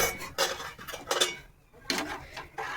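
A ladle stirring chicken soup in a metal pot, with bursts of scraping and clinking against the sides, separated by short quiet gaps and heard up close.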